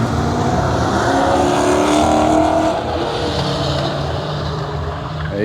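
A C10 truck drifts around corners at a car show, its engine roaring loud and continuous with a rising and falling growl as it slides past nearby.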